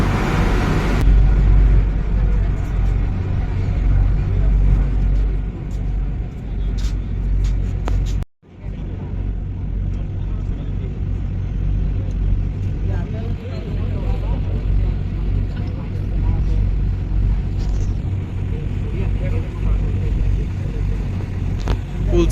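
A boat engine on the Brahmaputra drones loudly and steadily in the engine area, a dense low rumble with one brief dropout, while a person talks over it.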